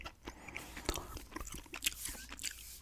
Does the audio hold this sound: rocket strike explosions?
no